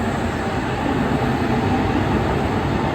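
A steady rumbling roar of a passing tram in Prague, continuous and close, with no voices.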